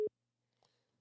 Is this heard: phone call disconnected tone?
yes